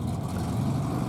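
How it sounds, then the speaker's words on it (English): A classic Fiat 500 drives past at a car meeting, its small engine giving a steady low rumble throughout at moderate distance, without any talk over it. "Here is the normal Fiat 500 driving around."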